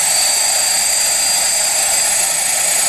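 Small Arduino-controlled quadrotor drone with motors throttling up and down while hovering, a steady loud high-pitched whine of spinning rotors that holds close and continuous throughout.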